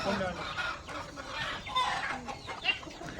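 Hens cluck on a small farm where chickens are kept for eggs, with continuous close clucking and scattered calls and several people talking over them.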